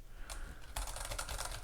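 Fingers type on a quiet, non-mechanical computer keyboard, giving a soft, close run of rapid clicks and taps that gets busier toward the end, with no voice over it.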